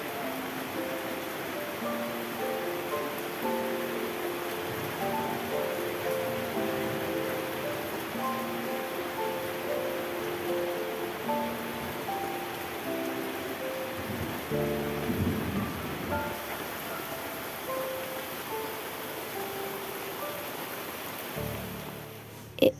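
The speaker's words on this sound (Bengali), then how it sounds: "এই সময় চলে এসেছিলো বৃষ্টি।" Steady rain falls outdoors in a rural village, a dense, even hiss of drops that holds for the whole stretch with no voices over it.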